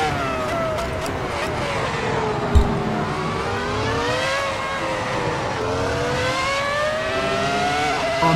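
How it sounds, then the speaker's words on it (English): Ferrari F2004 V10 race car in the Assetto Corsa game, screaming loudly at high revs from close behind at Silverstone, the pitch climbing and dipping through gear changes, with a brief knock partway through. "Oh, the sound is deafening behind this car."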